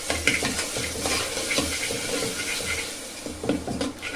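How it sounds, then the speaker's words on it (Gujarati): A spoon stirs spicy cluster bean and potato curry with turmeric, salt and garlic chutney in a pressure cooker pan, giving close scraping and soft sizzling in irregular strokes. "થોડીક વાર હલાવી લઈએ"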